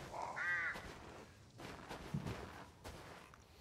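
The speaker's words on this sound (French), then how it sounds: "C'est les corbeaux qui font ce bruit." Crows caw in a graveyard in the video game Resident Evil Village, a short harsh call early on over a rumbling, noisy game soundscape with thuds.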